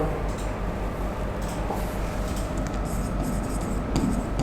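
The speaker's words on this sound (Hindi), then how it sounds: "ऊपर लिखता हूँ थोड़ा" Marker or chalk scratching across a board during a Class 12 accounts lesson on partnership final accounts, a continuous faint scraping under a steady background hum.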